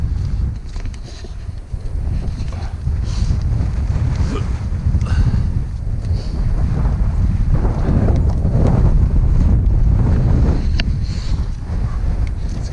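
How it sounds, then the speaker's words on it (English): Strong wind blowing across an open hilltop in the Yorkshire Dales on a rainy day, roaring and buffeting the microphone in loud continuous gusts. "It's a bit windy as well."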